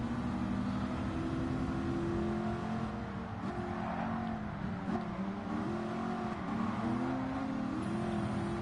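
Several racing car engines in Gran Turismo 7 drone and whine steadily throughout, pitch rising and falling with shifts as cars run close together, loud and continuous with no talking.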